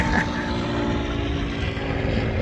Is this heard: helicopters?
yes